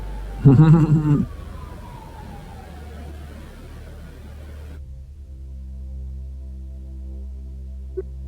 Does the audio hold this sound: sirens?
yes